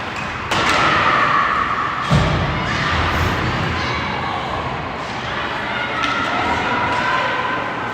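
Junior ice hockey game between Toledo Cherokee and Saginaw Spirit, with a heavy thud of players hitting the ice amid a steady crowd roar and arena noise.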